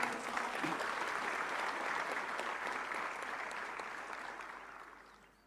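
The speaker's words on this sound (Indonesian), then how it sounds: "kita tepuk tangan bersama" Audience at a flag troop ceremony in Badung, Bali, applauding together in a steady wash of clapping that tapers off over several seconds, heard from a distance and fairly faint.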